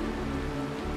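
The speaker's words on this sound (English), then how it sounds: "This is the sound of rain." Steady rain patters in a dense, even hiss of droplets from the game Honkai: Star Rail, close and continuous, with no voices.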